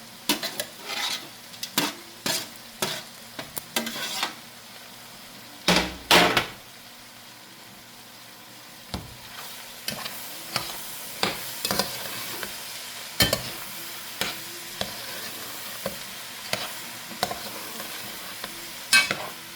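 Okra in a pan is stirred repeatedly, with many distinct scraping and clacking utensil strokes in an irregular rhythm over a faint sizzle, including a longer scraping burst partway through; no talking.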